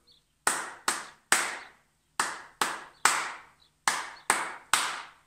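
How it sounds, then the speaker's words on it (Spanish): Hand claps in a repeating short-short-long rhythm, ten crisp, close claps in groups of three with a gap after each group, alone in a quiet room. "voy a imitar con mis palmas algún patrón rítmico"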